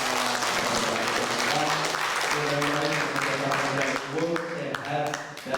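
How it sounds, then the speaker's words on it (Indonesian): Audience applause at a university geology alumni reunion, a sustained wash of clapping across the whole stretch with music playing underneath, fading slightly near the end. "Kita beri aplaus yang paling meriah."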